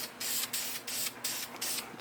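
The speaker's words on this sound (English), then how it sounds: "So we'll just go ahead and get this sprayed." Aerosol spray paint applied to the cylinder of a 1970 Honda Z50 Mini Trail Monkey 88cc, heard as a series of short hissing bursts, about six close, even-spaced sprays with brief gaps between them.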